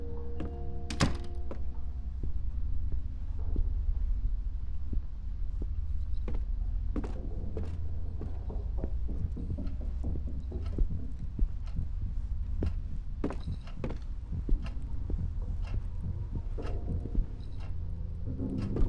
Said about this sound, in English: for the damn heartbeat every 5 seconds